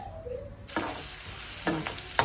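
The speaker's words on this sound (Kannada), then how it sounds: "ಈಗ ಒಗ್ಗರಣೆ ಮಾಡಿ ಆನಿಯನ್ನನ್ನು ಚೆನ್ನಾಗಿ ಫ್ರೈ ಮಾಡ್ತಾ ಇದ್ದೇನೆ." Onion hits the hot tempering oil for stuffed brinjal curry, setting off a sudden, loud sizzle that keeps going. Brief stirring scrapes can be heard over it.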